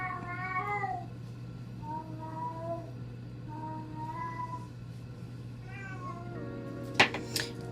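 A house cat meows repeatedly indoors, several drawn-out wavering cries close by over a low steady hum, ending with a brief sharp clatter.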